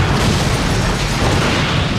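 A loud, dense explosion sound effect built for the Incredible Hulk: Ultimate Destruction video game, a continuous roaring blast of heavy low rumble and crackling debris with no voices.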